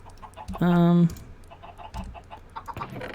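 Chickens in the Minecraft modpack FTB One give a loud, tonal cluck near the start, followed by softer scattered clucks and clicking game sounds over a busy background.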